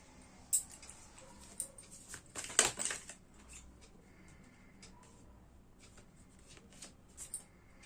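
Tarot cards shuffled by hand during a reading, giving a quiet run of papery riffles and flicks with one louder burst in the middle, close to the microphone, with no talking.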